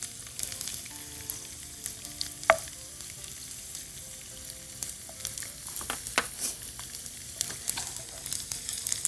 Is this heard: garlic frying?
yes